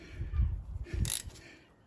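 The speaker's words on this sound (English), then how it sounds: "And then we tighten up the bolts." A wrench tightens the brake caliper bolts on a Citroen C3 during a brake pad change, giving a few close, dull mechanical clicks and knocks over about two seconds.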